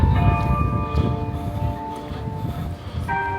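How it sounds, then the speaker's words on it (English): Clock tower bells ring out at Clock Corner in a historic UK town centre, a steady series of sustained, overlapping tones carrying over low street rumble and traffic noise throughout. "The bells are ringing away."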